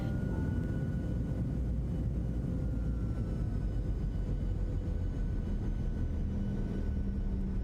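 Engines of a PMDG Boeing 737-700 in a flight simulator game spooling up under throttle, a steady low roar with a faint tonal whine, constant and unbroken.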